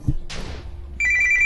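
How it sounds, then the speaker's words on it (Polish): A mobile phone rings during a Minecraft session: a short rustle and bump, then a bright electronic ringtone beeps in a steady repeating pattern, clear and close. "Jeszcze telefon mi dzwoni."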